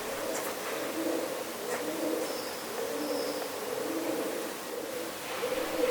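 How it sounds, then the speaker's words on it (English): Pigeons coo in a soft, steady series of low, rolling calls against a faint background hum, with an occasional distant chirp, inside a large abandoned resort. "It's weird to hear pigeons in a place which is normally bustling with life."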